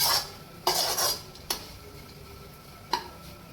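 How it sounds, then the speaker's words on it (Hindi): Desiccated coconut being stirred in a pan, heard as a few sharp, close metallic scrapes and clinks of a spoon against the pan, spaced unevenly, over a faint background hiss. "अब हम इसमें 1 कटोरी ये नारियल का बुरादा डालेंगे और इसको भी अच्छे से भून लेंगे"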